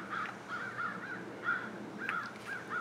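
Crows cawing in a rapid series of harsh calls, about eight short caws in irregular rhythm, faint and somewhat distant with no talk.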